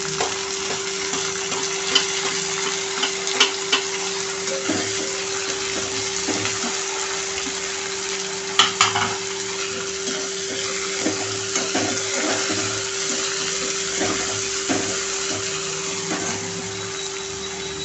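Tomatoes sauté in a frying pan over browned onions for a cowpea pod bhaji, giving a steady broadband hiss and crackle with scattered spoon clicks over a constant low hum.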